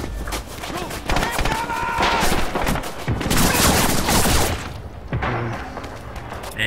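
Gunfire and grenade blasts in the multiplayer shooter Red Orchestra 2, near a bridge: dense rattling volleys and sharp cracks with booming bursts, fairly loud and continuous, with talk mixed in.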